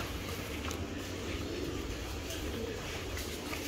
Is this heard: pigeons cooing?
yes